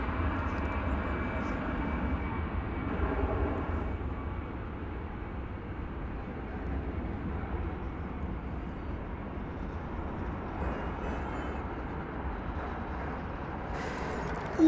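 A departing airliner on flight 2374 at Dallas Fort Worth Airport gives off a steady broadband engine roar that holds loud and unbroken throughout, with a faint voice talking beneath it.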